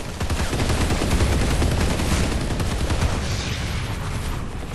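Heavy gunfire in Planetside 2, a dense, continuous barrage of overlapping shots and bursts, loud and close, sustained throughout.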